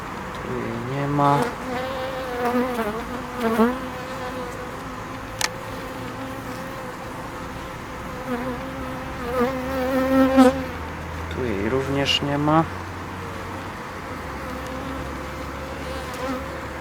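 Honeybees drone in a close, continuous buzz at a hive being given a new queen, several wing tones rising and falling as individual insects pass near amid the colony's hum.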